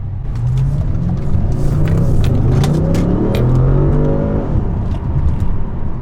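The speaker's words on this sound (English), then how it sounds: "Obviously with the V8, it's gonna sound pretty good as is from factory" An Audi S6/S7 with a V8 and a 034 Motorsport X-pipe rumbles loudly up close, its deep exhaust note rising and falling through a couple of revving pulls, with no voices.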